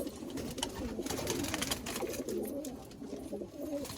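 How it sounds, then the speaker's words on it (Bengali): Pigeons of a carrier-type breed offered for sale near Dhamua station coo softly and steadily, a low continuous burble close by with no talk. "খুব সুন্দর পায়রা।"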